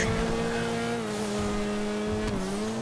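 A Sentinel Classic car in GTA V holds a loud, sustained engine rev, a steady droning tone with a brief dip and rise near the end and no talk over it.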